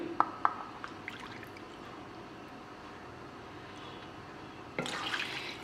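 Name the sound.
half cup of milk poured into cake batter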